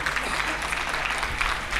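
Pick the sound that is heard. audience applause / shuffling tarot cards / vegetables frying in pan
audience applause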